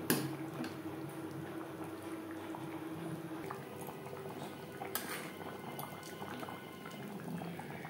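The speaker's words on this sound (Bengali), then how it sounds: "গ্রেভির সাথে পাকোড়া বা বড়া 2-3 মিনিট রান্না করব।" Egg pakoras simmering in a spicy egg chilli gravy bubble steadily in a pan, a continuous close boiling burble with a few faint clinks of utensils and no talking.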